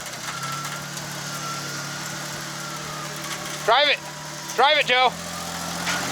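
Off-road vehicle engine idling and rumbling steadily on a rough trail in Johnson Valley, California, a low continuous drone that runs the whole time, with people talking loudly over it in two short bursts near the end.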